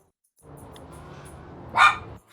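A pet dog named Coco barks once in the background, a short muffled bark near the end of a low steady hum, fairly distant and alone without talk.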